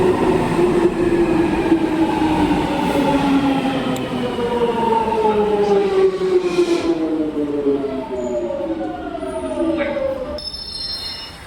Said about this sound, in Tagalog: Stand back. Train approaching.